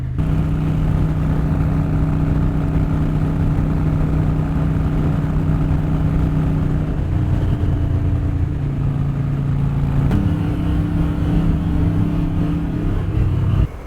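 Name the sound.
crashed Harley Dyna motorcycle engine running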